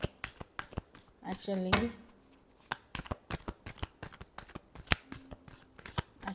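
Tarot cards are shuffled by hand in quick, crisp riffling bursts with a brief louder flurry of cards, close and clear, while a person speaks intermittently over them.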